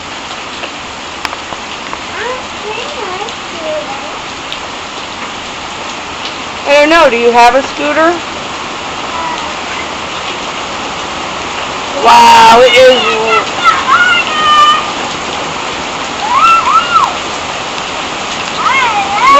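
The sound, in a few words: rain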